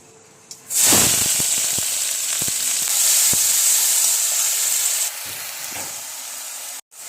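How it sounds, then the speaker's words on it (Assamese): Onion hitting hot oil sets off a sudden loud sizzle that holds steady for several seconds, with a few stirring clicks, then eases slightly and cuts out near the end; no talking. "এতিয়া মোৰ তেল গৰম হ'ল। এতিয়া মই দি দিম পিঁয়াজ"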